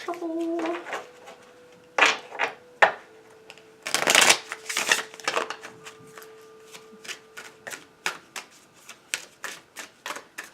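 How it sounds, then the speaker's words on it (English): Tarot cards are shuffled up close in a quiet room, giving a series of crisp riffling and flicking bursts with short pauses between them, while a voice speaks briefly at the start. "Let's do a little shuffle."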